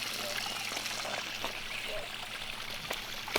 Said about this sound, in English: You can hear the waterfall from the deck.